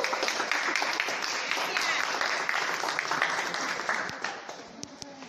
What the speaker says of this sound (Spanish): Un aplauso para todos, muchachos,